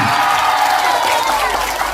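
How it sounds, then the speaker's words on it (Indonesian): A crowd at a public Islamic religious gathering claps and murmurs together, a brief, loud, continuous wash of applause mixed with voices. "Ya betul, tepuk tangan."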